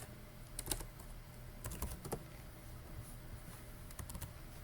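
Computer keyboard typing code, quiet bursts of crisp key clicks in short irregular clusters with pauses between, close and faint in a still room.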